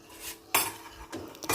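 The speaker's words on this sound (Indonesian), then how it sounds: "Aduk-aduk lagi." A utensil stirs milk pudding mixture in a pot, making a few close scraping and clinking strokes in quick bursts.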